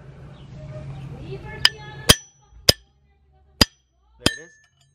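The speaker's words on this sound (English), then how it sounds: "Give me the hammer. I'll hit it." A hammer strikes the shifter pivot ball on a Nissan 350Z during a short shifter install, giving five sharp metallic clinks at uneven intervals after a stretch of low rumble and faint background noise.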